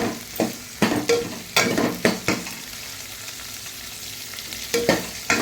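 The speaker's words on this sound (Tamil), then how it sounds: "இப்போ காலிஃப்ளவரை சேர்த்துட்டேன். காலிஃப்ளவர் நல்லா வதங்கட்டும்." Cauliflower florets with curry leaves sautéing in a pan, a close gentle sizzle broken by repeated scraping spatula stirs that come in rhythmic bursts, with no voices.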